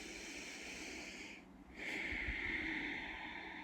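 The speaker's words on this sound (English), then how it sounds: "We breathe deeply." Deep breathing during a yoga flow, a soft sustained airy breath that dips briefly midway and then returns as a fuller, slightly louder exhale, close and unaccompanied by speech.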